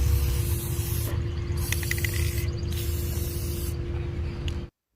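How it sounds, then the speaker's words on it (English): Rust-Oleum metallic gold spray paint hissing steadily from an aerosol can outdoors as the edges of a tray are coated, with brief pauses between bursts over a low background hum. "I am going to spray paint the edge using this metallic golden tone by Rust-Oleum."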